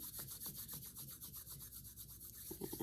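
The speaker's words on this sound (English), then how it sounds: "rub your hands together" Two palms rubbing briskly together in a quiet room, a soft rhythmic swishing friction repeated steadily back and forth, close and faint, with no talking.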